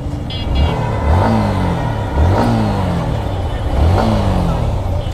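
A Yamaha MT15 motorcycle with 15,797 km on it, ridden along a road. The engine is close and loud, and its pitch climbs again and again as it pulls through the gears, with steady wind rush underneath.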